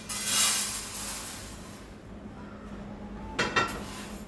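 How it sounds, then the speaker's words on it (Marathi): Roasted sabudana (sago pearls) scraped from a hot pan onto a plate, a soft rustling pour with metal scraping and a couple of clinks near the end, close up. "आता हा जो भाजलेला साबुदाणा आहे हा मी या ताटलीत काढून घेते."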